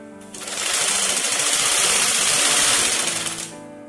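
A sewing machine stitching a chudidar whirs loud and close in one continuous burst of about three seconds, starting and stopping cleanly with no voices.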